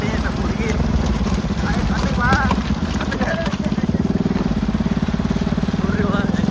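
A motorbike engine runs steadily on a rainy-day ride toward the Nagoda backwaters, a close, even putter with a rapid pulsing rhythm that holds throughout while people talk over it.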